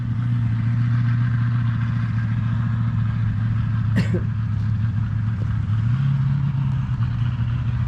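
A Chevrolet S-10 truck engine with new spark plugs runs at a steady, loud, close idle with a low droning hum and a slight rise in pitch near the end, a brief click or knock partway through.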